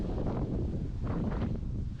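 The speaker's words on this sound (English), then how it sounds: "oh, it's so windy" Steady wind buffeting the microphone on Oceanflower Island, a man-made island, a continuous low rumble with gusty swells and no voices.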